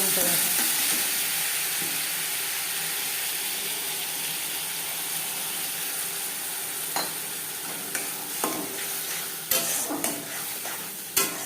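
Panch phoron and bay leaves fry in hot oil with spices, a steady loud sizzle that gradually eases while the spoon clacks and scrapes against the pan in several sharp knocks toward the end.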